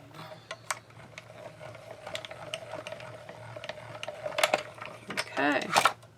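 A hand-cranked die-cutting machine is rolled through for paper die cuts, making a series of faint ticking, ratcheting clicks that speed into a short mechanical rattle near the end, with quiet ambient hum beneath.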